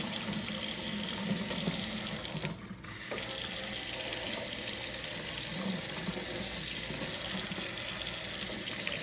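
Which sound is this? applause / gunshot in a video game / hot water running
hot water running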